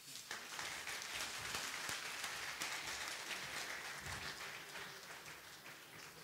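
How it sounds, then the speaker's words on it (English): A lecture audience applauds steadily, faint and diffuse like a distant wash of clapping that holds evenly for several seconds with no voices over it. "I think you all deserve an applause"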